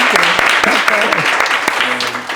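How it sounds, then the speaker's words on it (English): An audience claps for a woman at an entrepreneurs' talk, a dense, steady patter of applause filling the room while a voice speaks over it throughout. "can we give her a round of applause?"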